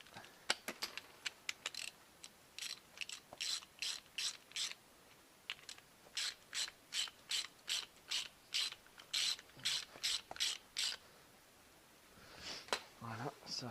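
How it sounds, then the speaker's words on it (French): A 16 mm ratchet wrench tightens the nuts of a big rear brake kit being fitted. Rapid, close ratchet clicks come in repeated short bursts with brief pauses between strokes, followed by a softer rubbing at the end. "On va mettre les écrous provisoirement sans loctite. J'avais la clé de 16"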